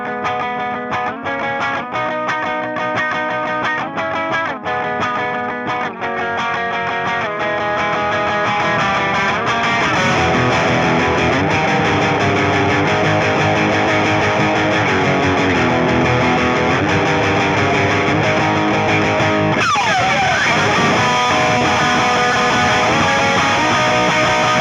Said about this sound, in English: And then distortion, I turn up the volume pedal.